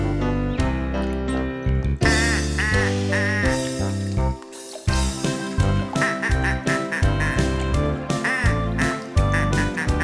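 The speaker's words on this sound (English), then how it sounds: "Hey, look there, a duck family." Cartoon ducks quack over bright, dense nursery-rhyme music in a children's song about a duck family at a pond, the quacks blending into the melody and staying loud throughout.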